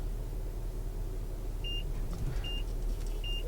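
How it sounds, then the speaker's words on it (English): A 2016 Mazda CX-9's reversing parking sensor gives three short, clear beeps, spaced nearly a second apart, over a low idling hum while the SUV backs up. "I hope you can pick up the beep."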